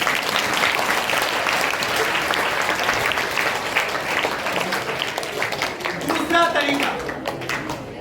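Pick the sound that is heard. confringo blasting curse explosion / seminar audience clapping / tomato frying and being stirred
seminar audience clapping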